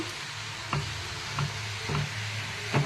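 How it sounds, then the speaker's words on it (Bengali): Carrot halwa stirred gently in a pan, a soft low sizzle with four evenly spaced light scraping taps of a spoon, quiet and close, no talking. "এটাকে আলতো হাতে নেড়ে 2-3 মিনিট মতন একটু"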